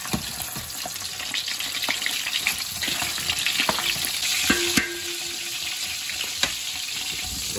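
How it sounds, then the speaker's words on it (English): Sausage browning in a hot pan for an escarole minestra, giving a steady, close sizzle and crackle with occasional sharp spits and pops and a few utensil scrapes and stirring clatters. "I'm going to go ahead and braise the sausage off first."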